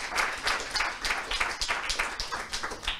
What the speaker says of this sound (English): I think we should give you a round of applause for that